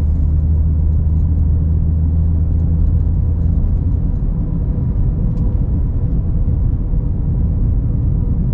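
A BMW with a dual-clutch transmission swap and single-mass flywheel pulls along at low city speed in fourth gear, heard from inside as a loud, steady engine drone and road rumble with no talking.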